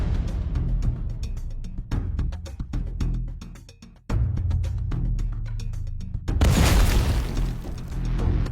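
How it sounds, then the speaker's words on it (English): Deep, heavy booms and rumbling blasts of a drone-delivered explosion echo inside a battlefield bunker, with a sustained roaring burst of debris near the end. "The explosion sounded again, and a lot of smoke and dust came out of the entrance."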